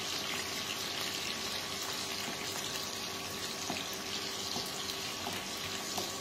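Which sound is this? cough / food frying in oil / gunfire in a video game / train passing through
food frying in oil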